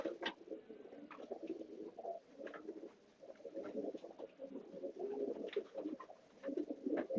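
Racing pigeons cooing steadily at the loft as the birds come home from a 25 km training toss, a soft, continuous murmur of overlapping coos with scattered wing patter and no talk.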